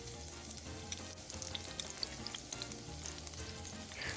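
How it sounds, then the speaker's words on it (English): Onions fry in a pan, kept separate from pork chunks, with a steady, quiet sizzle and crackle that runs continuously with no talking. "So now I'm going to get ready to start frying up my onions"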